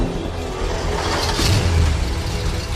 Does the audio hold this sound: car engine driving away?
yes